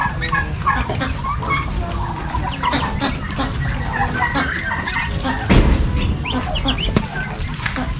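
Chickens and chicks cluck and peep steadily around a backyard pen in the Philippines at feeding time, a busy layered mix of nearby clucks with occasional louder calls.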